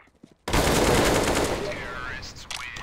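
Sustained automatic gunfire spraying in the Counter-Strike video game, a loud dense burst that begins abruptly after a brief quiet moment and rattles on continuously, easing slightly toward the end.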